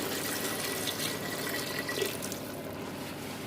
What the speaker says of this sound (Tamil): மட்டன் வந்து பாதி அளவு முழுகிற அளவு நம்ம தண்ணி சேர்த்துக்கலாம்